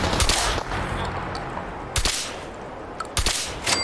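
Gunfire from a weapon in Fallout 4 VR: several sharp, loud shot bursts ring out at the start, around the middle and near the end, each with a broad crack over a steady noisy game background.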